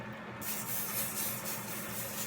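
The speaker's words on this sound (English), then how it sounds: "And then I'm going to do my spray." A can of hair spray sprays in one continuous, close, steady hiss for about two seconds, with no talk over it.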